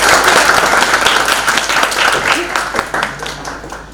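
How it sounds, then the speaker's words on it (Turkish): Loud audience applause for a state theatre actress at a World Theatre Day event, a dense sustained clatter of many hands that gradually thins toward the end, with a voice speaking underneath. "Ona bir alkış rica ediyorum."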